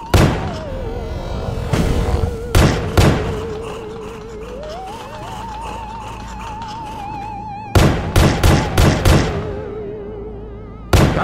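Gunfire in the video game Pony Factory: loud, close bursts of sharp shots in quick clusters, with a wavering tonal hum sounding between the volleys.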